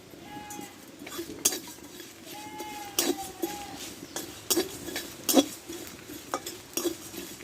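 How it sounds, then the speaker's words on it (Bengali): Spices are stirred in a pan for a raw mango pickle, with soft background frying under scattered metallic clinks and scrapes of a spoon against the pan and faint voices in the background. "এবার এই মশলাগুলো দিয়ে দিব দিয়ে ভেজে নিব একসঙ্গে"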